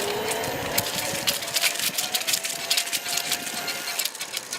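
A Bafang electric bicycle motor runs at pedal assist level 9 in the lowest of seven gears, a steady rising whine with wind and road rattle over it, heard close and continuous.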